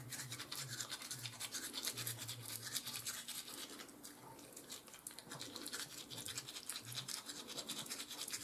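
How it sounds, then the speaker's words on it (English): A toothbrush scrubs a pet's teeth with rapid, close bristle strokes in short bursts, a faint wet undertone beneath and a brief pause midway. "I'll flip the toothbrush down and grab those bottom teeth."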